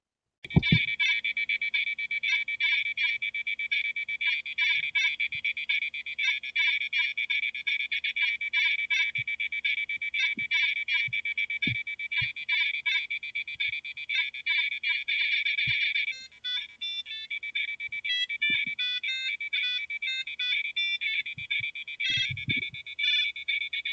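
Bleepy square-wave music from a real PC speaker playing the MS-DOS game Planet X3, a steady stream of rapid high beeping notes that shifts to a choppier melody partway through, with faint thumps in the background.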